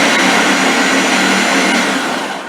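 A Ninja blender mixing Thanksgiving stuffing, a loud steady motor whir and roar filling the whole stretch, fading slightly at the end; no talk.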